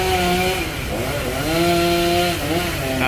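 Chainsaw cutting branches of a large Bucida molinetii tree near a house, engine loud and close, holding a steady whine under load with pitch dips and rises as the chain bites through the wood.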